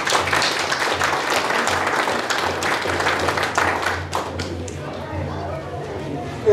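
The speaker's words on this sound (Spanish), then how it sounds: "Palmas a Cristo." Church congregation clapping in praise during a service, a dense burst of hand claps over a low steady hum that thins out and fades toward the end.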